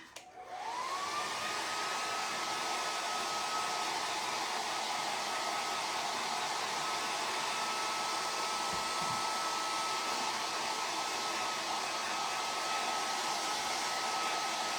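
A hair dryer blows steadily and loudly on chalk paste paint, a continuous whooshing airflow with a high whine running alone and without pause throughout.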